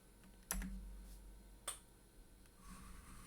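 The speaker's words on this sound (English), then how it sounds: "Sorry, I got my clicky keyboard again." A clicky computer keyboard is typed on in a few sharp, close keystrokes, with a quiet pause between them.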